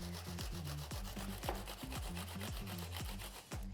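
Rhythmic rasping strokes of onion being grated by hand on a metal grater, about a dozen quick regular scrapes, close and fairly quiet with no talking.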